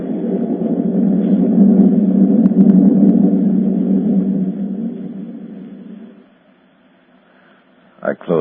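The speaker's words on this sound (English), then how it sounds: "Through the thunder crash I heard her." Thunder crash sound effect in an old-time radio drama, a heavy rolling low rumble that swells, sustains for several seconds and fades away, followed by a brief sharp burst.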